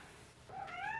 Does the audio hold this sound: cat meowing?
yes